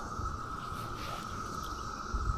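Cicadas at a fishing spot where bass and bluegills are feeding: a steady, continuous insect drone holds through the whole clip at a moderate level, with a faint low rumble near the end.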